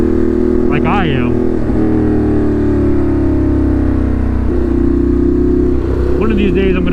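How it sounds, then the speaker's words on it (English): A Ducati Monster motorcycle with an SC Project exhaust drones steadily while being ridden, a loud, continuous engine note heard up close, with brief traces of a voice over it. "It's that exhaust just sounds so good."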